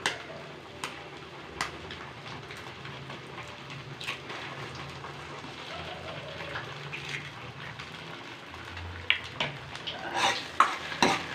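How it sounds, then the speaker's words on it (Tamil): Goat brain fries in a pan as an egg is cracked and poured in, giving a soft steady sizzle with stirring, scraping utensil taps and a few sharper clinks near the end. "ஒரு முட்டை உடச்சு ஊற்றிக்கலாம்"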